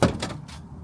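A sharp mechanical pop of a 2014 Honda's passenger-side car door latch with a faulty door cable, close by, followed by a couple of softer clicks.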